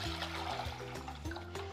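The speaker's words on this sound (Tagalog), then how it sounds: "Tubig." Water is poured into a cooking pot for pancit canton, a close, steady splashing stream with bubbling gurgles, heard alone.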